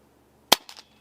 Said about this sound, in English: We're going to shoot for groups. Let's do 10 shots.